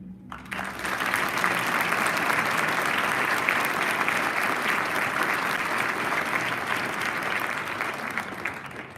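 A graduation crowd at a preparatory academy's Class of 2021 ceremony gives student speakers sustained applause that starts abruptly and holds steady and loud throughout, with no talk over it.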